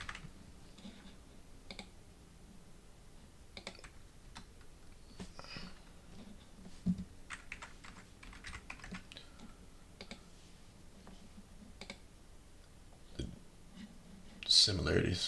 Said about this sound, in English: Go ahead and type in it right now